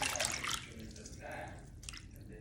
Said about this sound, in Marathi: मी पुदिना निवडला आणि धुवायला लगेच घेतला